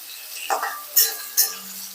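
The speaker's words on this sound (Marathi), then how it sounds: "आता कांद्याला छानपैकी गोल्डन ब्राऊन कलर येईपर्यंत तेलावर परतून घेऊया" Chopped onion sautéing in oil in a pan, a quiet background sizzle broken by three distinct spatula scrapes and clinks against the metal as the pieces are stirred.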